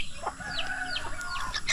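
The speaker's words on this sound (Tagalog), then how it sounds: "nasaan yung manok na mahina?" Soft, repeated clucking from a weak, sick chicken on a small farm, a few short calls scattered among low background noise.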